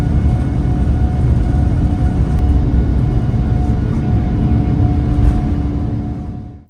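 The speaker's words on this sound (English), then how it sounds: "Here's some extremely tinted takeoff footage." Heard from inside the cabin of an airliner on its takeoff roll, a loud, steady engine roar and rumble with a faint whine runs throughout, then cuts off abruptly at the end.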